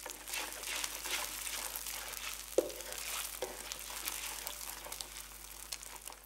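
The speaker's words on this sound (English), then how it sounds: "Blend the eggs through the chili paste and oil until they start to cook through." Eggs are stirred through chili paste and hot oil in a wok, giving a steady soft sizzle with faint crinkly stirring scrapes and one brief clack of the utensil.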